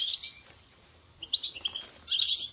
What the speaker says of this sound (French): Ah, les oiseaux.